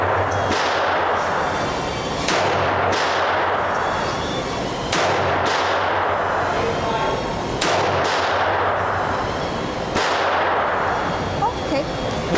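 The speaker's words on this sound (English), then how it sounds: "Very good shot." Antique 1920s firearms such as a C96 Mauser, Colt 1903 and Webley, one about 100 years old and extremely rare, test-fired outdoors: five loud, sharp single shots spaced a few seconds apart, each with a ringing echo tail.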